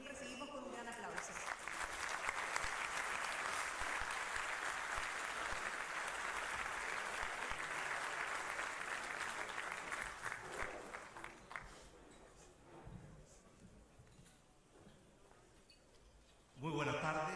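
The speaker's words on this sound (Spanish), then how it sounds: "señor Sebastián Piñera, con quien recibimos con un gran aplauso." Large audience applause welcoming Chilean President Sebastián Piñera at the 2018 annual industry meeting, a broad sustained clapping that fades after about twelve seconds, with faint voices and a louder burst at the end.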